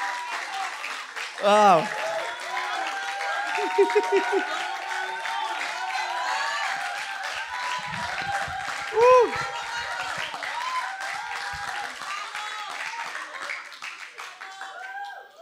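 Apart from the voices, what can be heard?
church congregation applauding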